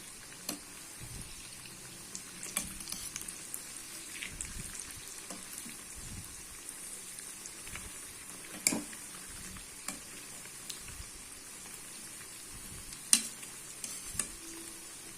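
Tea-shop bondas frying in hot oil over a medium flame, a soft continuous crackling bubble with a few sharper pops and clinks as they are turned, quiet and close, without talk.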